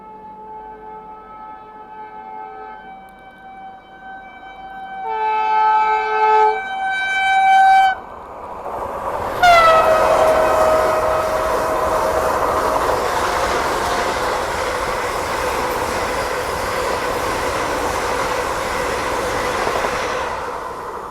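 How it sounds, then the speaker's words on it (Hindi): Vande Bharat express arriving alongside the Bengaluru Rajdhani Express, preceded by loud sustained horn tones, then a steady rushing roar of the passing train that stays loud to the end, with no talk. "आ चुकी है वंदे भारत"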